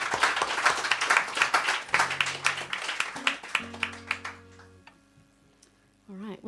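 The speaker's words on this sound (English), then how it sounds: "Let's give them another round of applause." Scattered, uneven clapping from a small audience at a music gig after a pair of singers' songs, individual claps audible and fading out as a voice begins speaking at the end.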